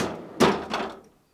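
GE French door refrigerator freezer door pulled open: a single close, solid thump followed by a softer second knock, then quiet.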